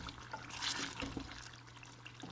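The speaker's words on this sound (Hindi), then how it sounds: "फिर इसमें आपने तेल डाल देना है 3 बड़े चम्मच" Three tablespoons of oil poured into a pot of liver masala, giving a soft liquid splash and trickle followed by faint sizzling, close and quiet.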